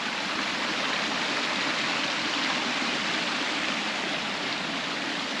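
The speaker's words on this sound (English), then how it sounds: "A really nice, pretty watercourse and river" A river watercourse along the Great Ocean Road in Victoria flows as a continuous, dense rushing hiss, steady and close with no variation and no voices.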